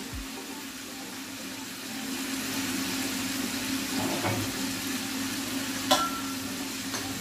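Seafood fritto misto fries in hot oil with a steady, close sizzle and bubbling that runs the whole time, broken by a few brief clinks near the end.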